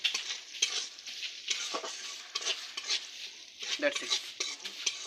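A packaged ghee-fried ingredient is briefly fried in a pan, giving a bright sizzle with rhythmic spoon scrapes and stirring bursts up close, and a voice speaks briefly.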